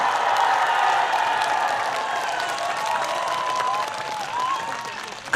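Loud, continuous applause and cheering from a large outdoor crowd at a festival celebration concert, dense clapping holding steady with some whistles and raised voices mixed in.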